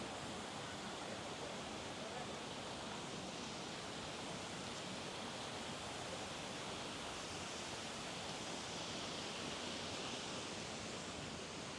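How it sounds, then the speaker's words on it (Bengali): Steady broadband roar of falling water at Jimba waterfall near Mount Fuji, Japan, reached over a rocky path; continuous and fairly close, with no break across the clip. "জিম্বা ওয়াটারফলের কাছে চলে আসছে, এখন ওয়াটারফলসের দিকে যাবো।"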